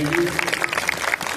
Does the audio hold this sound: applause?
yes